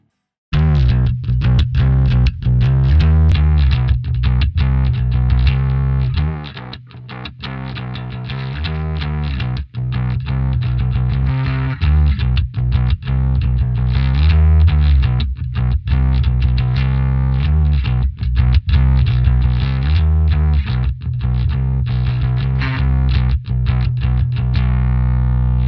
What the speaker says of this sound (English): I guess we've got a pretty decent bass guitar tone for metal